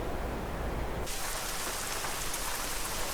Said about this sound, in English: it'll be raining and dark when I start next.